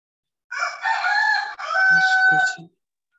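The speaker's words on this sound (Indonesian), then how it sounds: "Ada suara ayam itu berkokok" A chicken rooster crows nearby, one loud, drawn-out cock-a-doodle-doo broken by a brief catch midway, with a few low clucks beneath its final part before silence.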